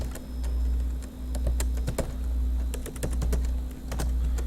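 Someone typing on a computer keyboard, quick irregular key clicks close by, over a steady low hum.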